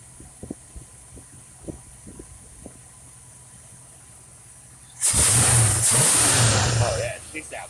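Car engine after carburetor idle-screw and timing adjustment: faint scattered clicks, then the engine roars in loud and steady close by for a few seconds before easing off.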